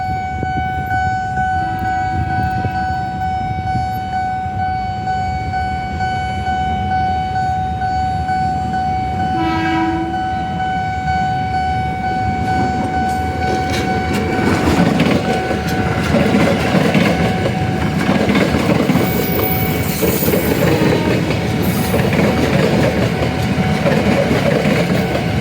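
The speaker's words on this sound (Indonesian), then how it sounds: "Suasana perlintasan KAI komuter teman-teman di Jalan Sunter Pemei Raya dari stasiun kota menuju ke Tanjung Priok." A KAI commuter train on the Jakarta Kota to Tanjung Priok line approaches a level crossing at Jalan Sunter, with a steady crossing bell ringing, a brief horn blast, then the loud rumble and clatter of the cars passing.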